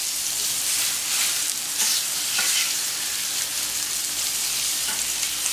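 Duck breast (magret) marinated with ceps fries in a pan with a loud, close, continuous sizzle and crackle, steady throughout with faint stirring and no speech.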